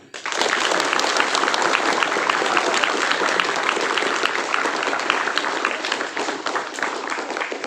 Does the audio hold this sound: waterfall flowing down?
no